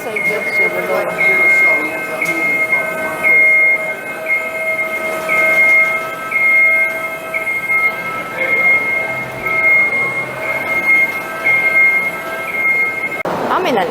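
A train at Grand Central Station rumbles along with steady wheel squeal and pulsing rail noise, with voices heard faintly in the background.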